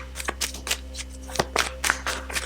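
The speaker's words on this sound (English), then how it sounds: "give these cards a shuffle until the first one falls or flips" Tarot cards are shuffled by hand at close range in a series of quick, crisp riffling bursts over a low steady hum.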